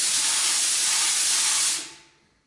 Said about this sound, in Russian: Дальше нажимаем, открывается еще сама дюза и идет подача уже материала.